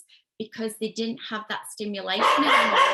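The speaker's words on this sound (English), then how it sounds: "that's my dog barking" A dog barks several times nearby, in quick bursts that overlap someone talking, with the barking growing louder toward the end.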